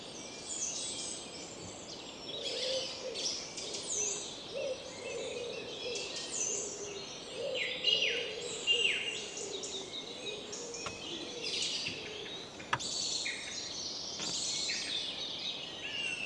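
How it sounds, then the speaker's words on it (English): Song thrushes, robins and wrens sing outdoors around a parked camper van, a steady mix of faint, distant trills and chirps layered over soft background hiss with no voices. "carry on listening to the song thrushes"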